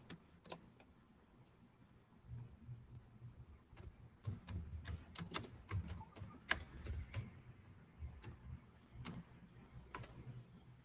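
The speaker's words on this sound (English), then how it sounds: "Should I type the question?" Keys tapped on a computer keyboard while a question is typed, a quiet, irregular patter of clicks with short pauses and small bursts, close by in an otherwise still room.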